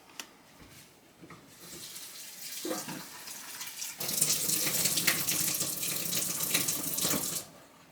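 Running tap water splashes steadily into a sink, growing fuller and louder midway as vegetables are rinsed, then cuts off near the end.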